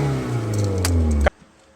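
A car engine revs with its pitch climbing steadily after a relay replacement, loud and close, then cuts off abruptly into near silence.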